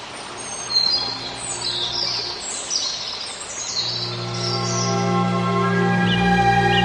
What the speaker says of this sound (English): the European robin, and it's famous for its melodic song that is often heard during the winter months